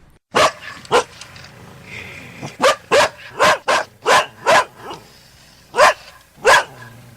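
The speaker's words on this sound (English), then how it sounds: "Look, the dogs have picked up the scent again." Several dogs tracking a scent outdoors near a road give loud, close, sharp barks, about a dozen in irregular bursts with short quiet gaps between them.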